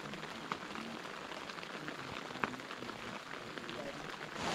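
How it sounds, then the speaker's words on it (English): Hail falls on a mountain campsite, a dense, steady patter of small impacts on surfaces nearby, with a few sharper hits standing out against the continuous clatter. "It is hailing again."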